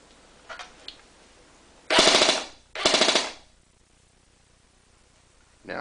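An airsoft gun fires two full-auto bursts, each about three-quarters of a second, in a rate-of-fire test comparing LiPo and NiMH batteries, loud rapid rattling after a few faint clicks.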